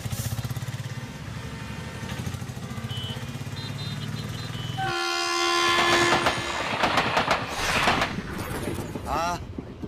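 A train rumbles with rhythmic wagon clatter, then a loud horn blast rings out as it pulls away, with voices mixed into the close, busy noise.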